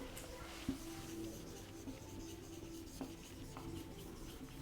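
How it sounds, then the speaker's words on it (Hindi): Pen writing during a biology lecture: faint, soft scratchy rubbing strokes with a few light taps, close and quiet against low room noise, with no talk. "तो हम लोग लिखते हैं"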